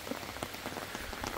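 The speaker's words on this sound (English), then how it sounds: "it's been raining for hours now" Steady rain patters on a tent nearby, a dense, even spray of drops with no voices.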